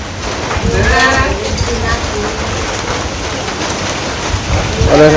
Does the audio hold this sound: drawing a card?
no